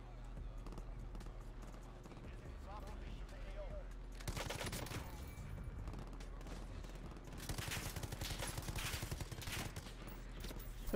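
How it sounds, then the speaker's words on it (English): Video game gunfire pops off in rapid bursts and volleys over a steady hum of game ambience, growing busier toward the end, with a player talking over it. "Who are you shooting at?"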